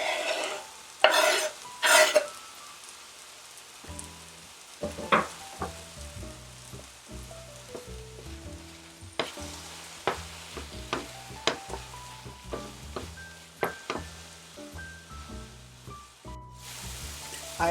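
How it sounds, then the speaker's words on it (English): Ingredients are stirred together in a sizzling pan, with a soft frying hiss under a series of distinct spoon scrapes and clinks that come every second or so, plus a couple of louder bumps near the start. "Stir them together"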